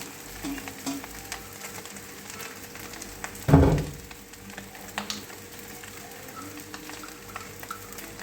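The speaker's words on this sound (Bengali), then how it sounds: "আমি এখন ভাতগুলো দিয়ে দিচ্ছি, যেটা আমি ফ্রাইড রাইস তৈরি করবো, মিক্স ফ্রাইড রাইস।" Cooled cooked rice tipped into a hot pan for mixed fried rice, a brief louder rush and sizzle as it lands, then a steady low frying crackle with small scraping sounds.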